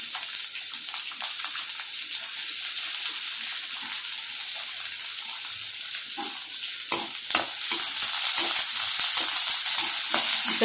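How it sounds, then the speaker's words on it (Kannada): Onions dropped into heated oil in a home kitchen pan for liver fry, sizzling in a continuous bright crackle with scattered spatters and stirring scrapes, growing slightly louder toward the end. "ಈಗ ಎಣ್ಣೆ ಕಾದಿದೆ ಈರುಳ್ಳಿ ಹಾಕೊಂಡೆ"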